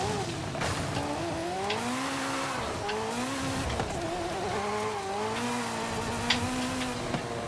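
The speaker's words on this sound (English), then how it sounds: "They really outbid themselves on the car sounds this time around." Race car in the Forza Horizon 5 video game driving through a forest: a loud, continuous engine whose pitch rises and falls as it revs and shifts, with tire noise beneath.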